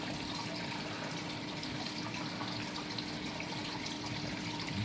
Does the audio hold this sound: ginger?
no